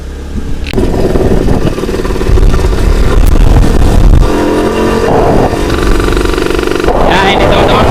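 A customer's motorcycle at a motorcycle wash business runs and revs close by, its tone rising and falling, while people talk over it.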